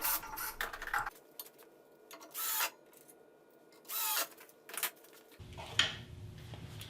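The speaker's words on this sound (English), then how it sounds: "pre-drill the holes and attach it with the screws" A power drill whirs in short bursts while pre-drilling holes and driving screws into a wooden sacrificial fence for a bandsaw jig, each burst rising and stopping against a quiet workshop background.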